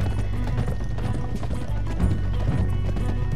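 Horse hooves clip-clop steadily in Red Dead Redemption 2, with an occasional whinny, several horses trotting close and loud over a continuous low rumble of game ambience.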